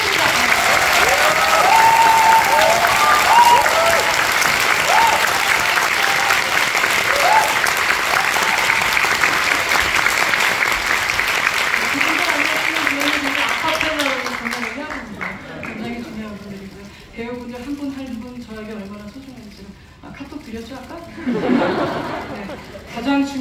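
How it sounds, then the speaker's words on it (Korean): Big audience ovation for the musicians at the final curtain call of the musical Four Minutes, loud sustained clapping for about fourteen seconds, then fading into chatter, laughter and a voice talking. "50회 한꺼번에 여러분들 뮤지션 분들에게 박수 부탁드립니다."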